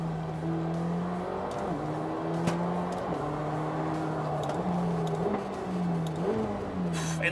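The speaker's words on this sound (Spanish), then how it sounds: "Qué bien funciona esta caja de cambios de doble embrague" A 2022 McLaren 720S with a dual-clutch gearbox revs steadily while its paddle shifts step the engine note up and down, loud and close from inside the car, with no speech.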